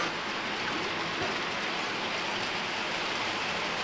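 A model railroad freight train pulling refrigerator cars and gondolas runs by close up, giving a continuous loud rolling rush with light clicking and no pauses.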